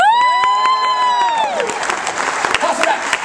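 Audience at a cruise ship magic show breaks into loud clapping and cheering right after a long, sustained shouted vocal note, the applause close and busy for a couple of seconds.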